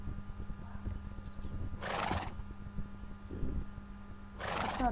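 A horse neighs in Minecraft 1.6.1, two short whinny bursts with a few faint squeaks over a steady low game hum, and no talking.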